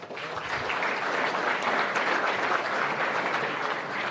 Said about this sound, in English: We'll clap for you again.